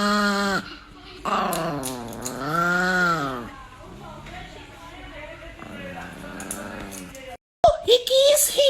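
A dog growls and whimpers in short bursts amid excited human chatter and exclamations, with a brief silence before louder voices near the end.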